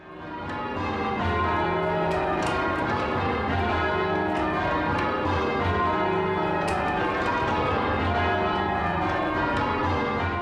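Church bells at St Mary's, rung by hand, ring continuously and densely, many overlapping strikes blending into a loud, sustained clangor that fills the whole stretch without pause.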